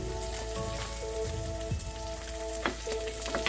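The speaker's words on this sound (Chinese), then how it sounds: "大概像我这样煎，大概1分钟我就翻面了" Fresh oysters pan-fry in a shallow layer of oil, crackling and sizzling steadily close by, with a few brief spits and light scrapes of the pan, no voices over it.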